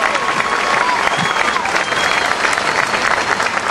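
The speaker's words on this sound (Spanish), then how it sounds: "Un aplauso entonces para Nicolás," A crowd at a cycling race in Bragado, Argentina applauds a rider, the clapping dense and steady throughout with a light crowd murmur and faint cheering mixed in.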